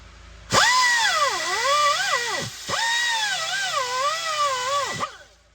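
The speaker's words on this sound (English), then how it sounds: "You're going to get real good with your angle grinder if you're not already good with it" An angle grinder works on a Sundown Audio REV 3 classic 12-inch subwoofer being prepped for a recone. It gives two loud, close bursts of high whine whose pitch dips and wavers as the tool bites, with a short gap between them.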